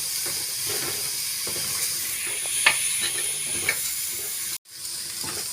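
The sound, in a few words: cowpeas sizzling and being stirred in pan with chilli powder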